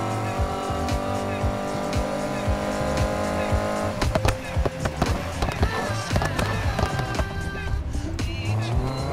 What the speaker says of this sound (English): downshift crackles and pops that I love, that I hope you love too, because it's awesome.